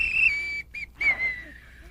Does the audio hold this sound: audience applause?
no